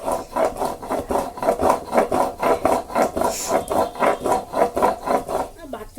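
Spices are ground by hand on a stone. A steady rasping scrape repeats in a quick, even back-and-forth rhythm, close and continuous, with no pauses.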